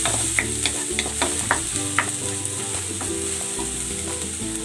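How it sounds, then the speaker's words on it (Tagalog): Ginger and garlic sizzle in a hot pan, with rhythmic scraping and stirring strokes over a steady frying hiss, close and fairly loud. "Igigisa ko na tong luya."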